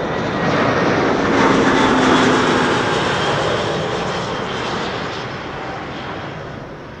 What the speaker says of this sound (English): This is Vueling flight 8309 arriving from Barcelona.